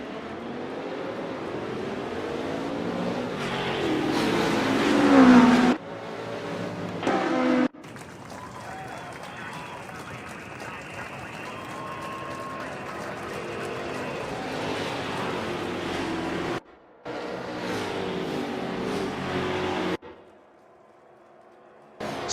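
Race cars accelerate away at the start of a 1960s World Sportscar Championship race at Watkins Glen in a racing game, a sustained engine roar that rises and cuts out between segments, with a voice talking over parts of it.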